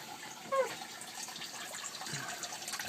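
Water draining from a hydroponic pipe into a 27-gallon container, a steady close trickle and splash with a brief louder gurgle early on, running continuously without talk.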